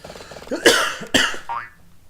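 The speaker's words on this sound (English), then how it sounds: "I'm so sorry about all that coughing" A person coughs twice in quick succession, close and loud, with a short raspy throat sound at the end.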